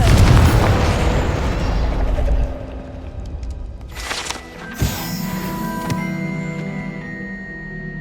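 Confringo blasting spell in Hogwarts Legacy, a heavy booming explosion that rumbles and then fades, followed by a second sharp blast and lingering magical shimmering tones.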